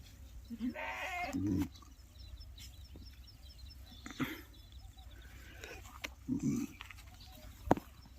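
Sheep and lambs bleat on a sheep and goat farm. A few short, faint bleats come out of a steady, noisy outdoor background.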